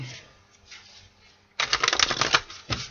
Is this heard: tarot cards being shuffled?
yes